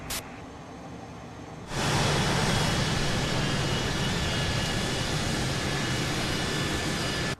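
An airliner in Microsoft Flight Simulator sits at a quieter idle hum before the engines abruptly spool up into a loud, steady, broadband jet roar that holds for several seconds of taxi and takeoff, with no talking.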